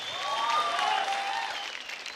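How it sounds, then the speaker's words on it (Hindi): A studio audience at a televised dance show bursts into sustained applause, with bright cheers and whoops riding over the clapping before it begins to taper off. "जोरदार तालियां।"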